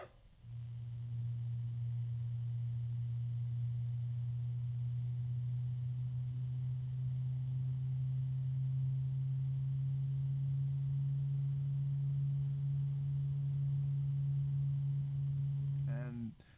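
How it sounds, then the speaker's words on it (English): An electric fan running at maximum speed gives off a steady, loud, low-pitched hum that holds unchanged for about fifteen seconds, then stops with a faint click at the end. "It is kind of a loud fan, but not horribly loud."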